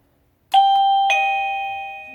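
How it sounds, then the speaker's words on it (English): A Govee waterproof wireless doorbell plays its first melody, a clear two-note electronic ding-dong chime with the second tone ringing out and slowly fading, loud and close with no other sound. "There's 36 different sounds, melodies, on this Govee waterproof doorbell system."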